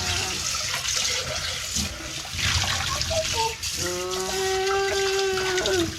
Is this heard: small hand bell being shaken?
no